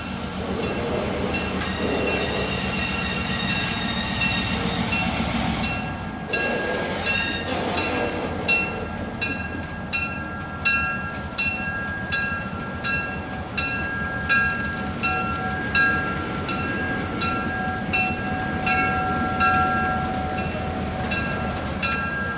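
A holiday train in Sacramento rumbles along the rails at close range, wheels clacking in a steady regular rhythm over a constant low roar, with a high squeal ringing through.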